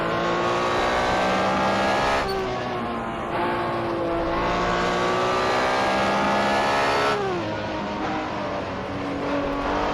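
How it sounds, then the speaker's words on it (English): Race car at the 1964 Targa Florio, engine held loud and close throughout, pitch rising and falling with gear changes as the driver brakes hard enough to lock the tyres. "He's locking his tyres quite a lot."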